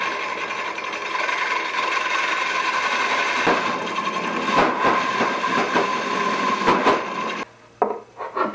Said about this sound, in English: Using this Forstner bit and raising the table up, you can see I've bored a hole all the way through to the plywood on the other side.